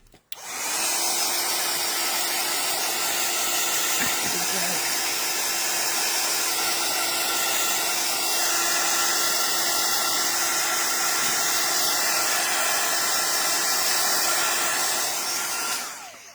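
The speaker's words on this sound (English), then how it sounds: "I might have to get the heat tool out, so you may have to bear with as I give it a quick blast" A heat tool blasts embossing enamel with a steady, loud hair-dryer-like roar of blowing air. The whoosh holds constant for about fifteen seconds and stops at the end.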